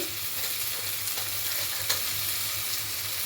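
Potatoes and tomatoes frying in a pan with turmeric stirred in, a steady close sizzle under light scraping of the stirring spoon, with no talking.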